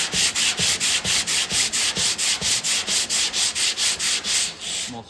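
Hand block sanding on the tailgate of a C10 truck, a steady run of about eighteen even back-and-forth rasping strokes, close and loud, with no talking.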